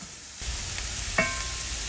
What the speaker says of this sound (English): When it's sizzling, add the chopped onion. You will sauté until the onion is almost tender.